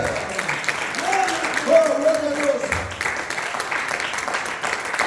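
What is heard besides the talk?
congregation applause in church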